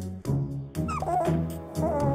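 A puppy whimpers and yips in three close, high, wavering bursts, loud and near, with short pauses between the cries.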